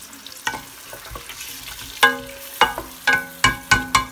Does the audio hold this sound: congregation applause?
no